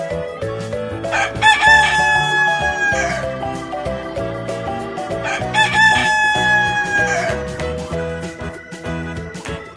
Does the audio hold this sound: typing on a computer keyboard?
no